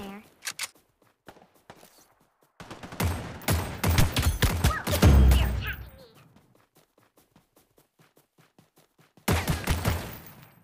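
Gunfire in the Omega Legends mobile shooter, a few short bursts up front, then a long, dense, loud barrage of shots and impacts, falling quiet before another burst near the end.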